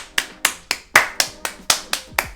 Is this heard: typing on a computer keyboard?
no